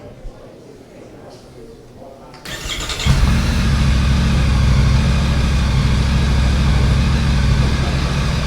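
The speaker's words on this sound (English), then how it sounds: "I'll lay the microphone on the seat so you can probably hear the exhaust a bit better." A 2020 Triumph Tiger 900 motorcycle engine cranks and fires up after a quiet pause, then settles into a loud, steady idle close to the microphone resting on the seat.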